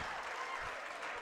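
A distant, faint home crowd cheers and claps continuously in a high school gym during a Class C1 sub-district basketball game, a low steady roar with no break.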